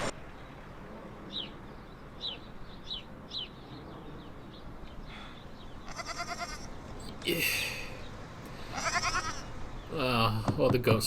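A goat bleats several times, loud and near, with quieter chirps and rustling from a farmyard in the background.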